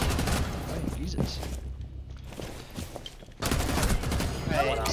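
Video game gunfire in a rapid, dense burst of shots, loud and close, dropping away briefly before another heavy volley resumes, with a player's voice speaking over it.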